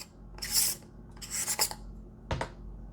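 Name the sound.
unscrewing a lens cap and filter on a camera lens hood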